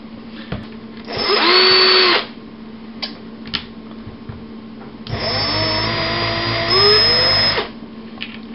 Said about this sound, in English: we go from our pilot hole size drill bit to our 3/16 drill bit